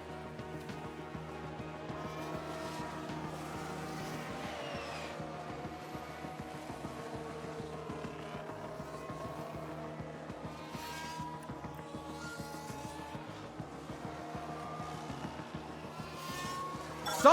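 Race cars from the F1 Manager 22 video game, with one car spinning out during a 1995-season race, produce a steady, continuous engine drone and tire noise that runs the whole stretch with no talk over it.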